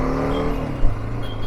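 Road traffic on the Goa–Mumbai highway at Mangaon, a steady close engine drone from cars and vehicles with a brief louder swell as one moves nearby, no talk.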